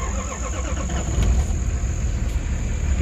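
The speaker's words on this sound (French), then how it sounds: "on va démarrer pour voir." An old Nissan Patrol engine turns over and catches, a steady low mechanical rumble with a faint whine close by, no voices.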